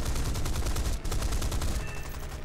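Aircraft cannons and machine guns firing in the War Thunder combat flight game, rapid loud bursts of gunfire in a continuous rattling stream with a brief break partway through, close and alone without talk.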